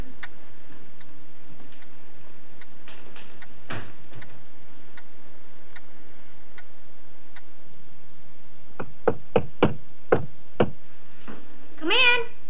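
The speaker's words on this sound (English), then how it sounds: "What was that knocking?" Indoors at night, a quiet ticking gives way to a rapid series of sharp knocks on a bedroom door, followed by a short cat meow.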